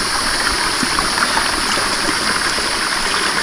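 Cold mountain stream water at Knuckles rushes in a steady, close, loud broadband flow that holds constant throughout, with no voices over it.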